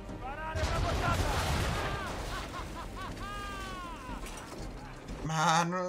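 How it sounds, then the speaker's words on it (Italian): Cannon fire in Assassin's Creed 3 naval combat, heavy booming volleys over crackling battle noise with shouted orders and voices throughout, ending in a loud burst. "Ricaricate quei cannoni!"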